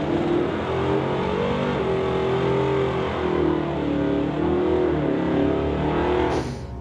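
A 1972 Chevy with a 364 engine and a BMW launch in a street-legal drag race, a loud sustained engine roar holding and rising throughout before easing off at the end.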